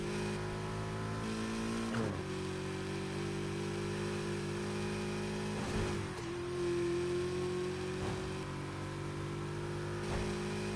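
Racing car engine in Need For Speed Heat drones loudly and steadily, with several pitch dips and rises at gear shifts or braking before revving back up, with no talk over it.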